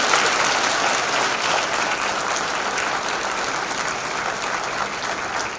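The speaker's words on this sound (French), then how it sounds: "le premier réussit son atterrissage sous les acclamations de la foule" A crowd of spectators claps and cheers as a parachutist touches down, a dense, steady roar of applause held at constant loudness throughout, with no single voice standing out.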